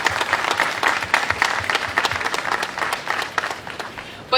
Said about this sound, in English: I think our young people need a round of applause